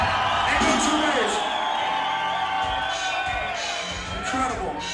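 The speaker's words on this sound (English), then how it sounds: "give yourself a round of applause, because you're the best" Concert crowd at a Pantera show in Cincinnati cheering, whooping and shouting with scattered applause, a dense, loud wash of many voices sustained throughout with rising yells.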